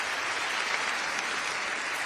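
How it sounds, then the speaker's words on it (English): Steady, even applause from an awards ceremony crowd in a large hall for the event staff, a continuous wash of clapping at moderate distance with no talking. "Round of applause for them, for sure"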